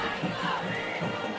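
A crowd roars and cheers continuously at a high school football game between the Liberty Panthers and Silsbee Tigers, a dense, steady wash of voices with no break.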